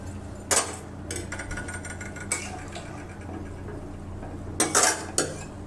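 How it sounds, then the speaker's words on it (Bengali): Washed red lentils (masoor dal) tip into a cooking pot in a home kitchen, giving a few sharp rattling clatters against the metal with quieter scraping between them. A low hum runs underneath and nobody talks. "ডালগুলো আমি এখন দিয়ে দেব"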